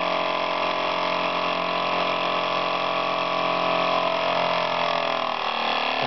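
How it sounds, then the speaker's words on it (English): A small model steam engine running fast on steam, its rapid mechanical beat steady and close throughout, with a slight change in pitch toward the end as it settles, no voices over it. "how fast do we want these engines to go? Listen to that rev."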